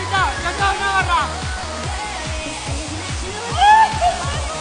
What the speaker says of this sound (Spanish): ¡La cascada más bonita!